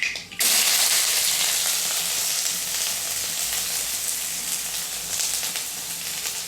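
Sliced onions hit hot oil while frying for chuda upma, setting off a loud, close sizzle that jumps in at once and keeps hissing steadily the whole time.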